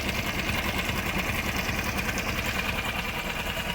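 An outboard motor idles while being flushed, giving a steady close mechanical chugging and ticking hum with a water-stream hiss, unbroken and without speech.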